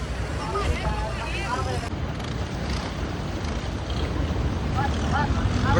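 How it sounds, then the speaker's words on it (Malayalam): Open long-tail boat ride near Phi Phi Island, with steady engine drone and water rush mixed with strong wind buffeting the microphone throughout; voices chatter faintly at moments. "Long tile boat video."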